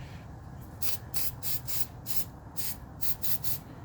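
Disc brake quiet is sprayed onto brake pads from an Infiniti JX35/QX60 front brake job, about ten short hissing spurts in quick irregular succession, close and fairly faint.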